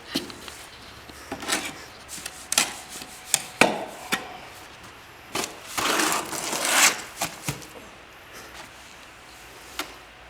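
Concrete being mixed by hand in a plastic mixing tub from Harbor Freight, a series of gritty scraping, crunching strokes at close range, irregular and repeated, with brief pauses between pushes.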